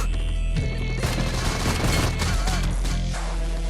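Gunfire in the PUBG Mobile game with the weapon on single-fire mode: loud, dense, sharp shots and booming impacts crowd the whole stretch with no talking.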